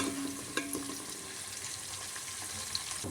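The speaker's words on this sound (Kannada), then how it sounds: "ಈರುಳ್ಳಿ ಸ್ವಲ್ಪ ಕಲರ್ ಚೇಂಜ್ ಆಗಲಿ, ಸ್ವಲ್ಪ ಎಣ್ಣೆಲೆ ಸ್ವಲ್ಪ ಫ್ರೈ ಆಗಲಿ ಇದು." Onions frying in oil for chicken biryani, a soft, steady sizzle with occasional clinks and stirring taps, fairly quiet.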